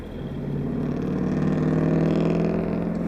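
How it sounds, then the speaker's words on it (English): A car passes close by on the road, its engine a steady, loud hum that swells slightly and then eases over a few seconds, with no voices. "there's that car that was just passing me"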